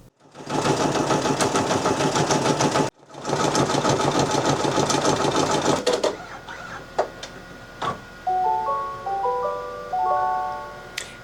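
A loud, steady mechanical whirring of an embroidery machine stitching, stopping briefly, then resuming before giving way to a short series of beeping tones.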